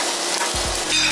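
Steady, close sizzling and crackling of meat being rotated on a Weber kettle grill fitted with a Slow 'n Sear, with a brief shuffling bump partway through.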